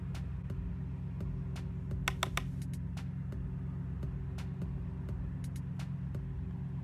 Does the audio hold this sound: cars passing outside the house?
yes